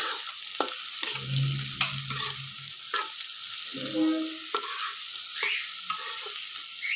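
Onion and freshly chopped new garlic sizzle in hot oil, a steady close frying hiss broken by repeated stirring scrapes, with no talking.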